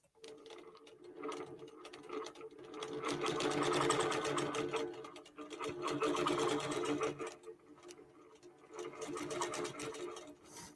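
QBOT V3 Pro computerized quilting machine stitching in bursts, rapid rhythmic needle ticking that swells and fades in several passes with short pauses between, close and without talk.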